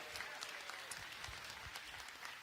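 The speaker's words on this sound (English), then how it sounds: "Can we give it up for all the mothers?" A church congregation applauds for mothers on Mother's Day, a steady wash of clapping and crowd noise that holds throughout without a break.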